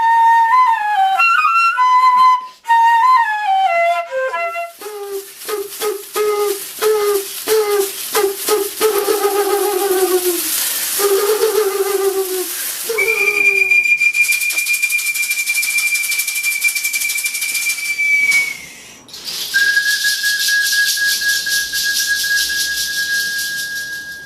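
Pre-Columbian Andean ceramic whistling vessels sound in a series of breathy, warbling whistle tones, first short stepping notes, then long sustained high pitched whistles, loud and close with no speech.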